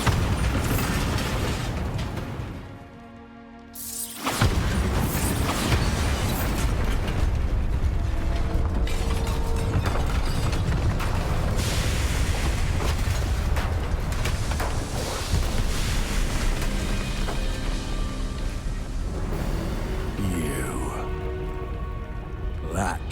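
A Bombarda blasting spell in Hogwarts Legacy, a long dense roar of explosive rumble and crackling debris, loud and continuous after a brief dip, with game voices speaking over it.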